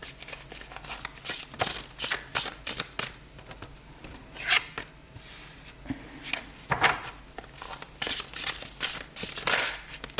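A deck of tarot cards being shuffled by hand in quick repeated riffling bursts, crisp and close, with soft pauses between rounds and no talking.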